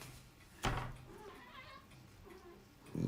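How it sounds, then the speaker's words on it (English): A cat meowing faintly in a kitchen, a few soft, drawn-out calls between two sharp close knocks, all quiet and distant. "The cat is crazy."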